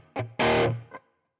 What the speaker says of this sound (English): it seems like a lot of reverb. It's the high end that makes it seem like a lot